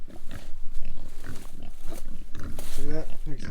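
Pigs grunt close by in short, uneven snorts, with a few higher squeals near the end, mixed with someone talking to them outdoors.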